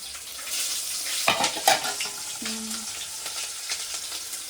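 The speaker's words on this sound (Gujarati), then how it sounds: "ખીચડી વઘારી" Khichdi tempering sizzles steadily in a hot pan, with a few sharp clinks of a utensil against the cookware.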